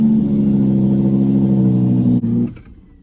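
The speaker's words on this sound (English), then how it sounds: "hit the start button, and the vehicle will start" An Audi R8 engine running after a push-button start, giving a loud, steady close-up idle drone that holds evenly for about two seconds and then cuts off abruptly and fades to quiet.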